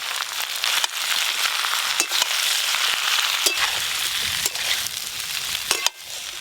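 Fried vegetables with chili powder and green chilies sizzle steadily in a pan for a Bengali labra, with the hiss broken by occasional scraping stirs and clinks of a spatula.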